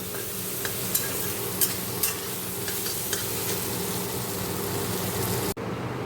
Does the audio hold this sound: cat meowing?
no